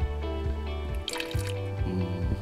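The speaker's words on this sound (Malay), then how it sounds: "Air akan keluar tuh di bawah." Water from an aquarium tank draining out through a siphon hose, a loud close gurgling and dripping flow with bubbly, squishy pulses and a brief splashy burst midway.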